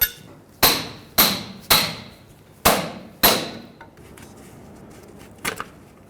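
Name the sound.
hammer punching off steel clamp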